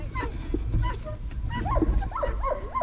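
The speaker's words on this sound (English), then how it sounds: "he's got to bark at you" A working dog yips, whines and barks in bark-and-hold protection training outdoors, excited bursts of high, strained vocalizing under a low rumble of wind and handling noise.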